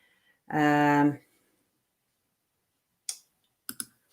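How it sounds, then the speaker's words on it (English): Three sharp computer mouse clicks land in quick succession, one alone and then a close pair, after a short hummed or voiced sound and a stretch of near silence. "I'm not sure if I'm clicking on the right one"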